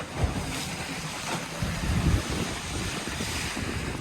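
A sailboat surfs down the back of a Pacific Ocean swell, giving a continuous wash of rushing water and wind buffeting the mic. Swells of louder surging come and go, and no voices are heard.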